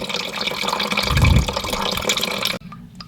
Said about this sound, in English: now that most of the water's out of the tank, we're just getting some last little drops there